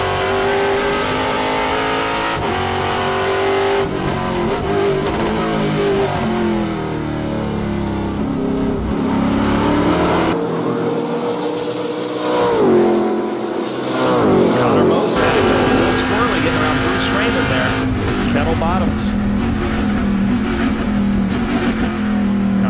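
TA2 race cars at Road America accelerate hard and shift up through the gears, the loud engine note climbing and dropping with each change. A commentator talks over the constant engine roar, and the cars sweep closer and away again.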